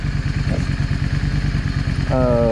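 A Yamaha V Star 650 motorcycle engine runs steadily nearby, with a rapid even thumping pulse and loud mechanical clatter. Near the end, a higher tonal whine joins the engine.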